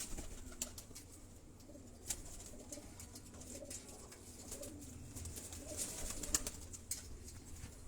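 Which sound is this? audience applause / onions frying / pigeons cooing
pigeons cooing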